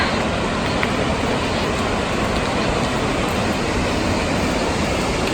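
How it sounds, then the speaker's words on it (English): Waterfalls at the end of a trek heard as a dense, constant roar of falling water, loud and broadband, steady throughout with no voices or breaks. "Lovely walk up to the waterfalls."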